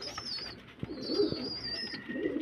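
Pigeons kept in a loft coo softly and repeatedly in low murmuring calls, with a faint higher chirp or whistle running over them; no one speaks.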